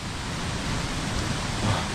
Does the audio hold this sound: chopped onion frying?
no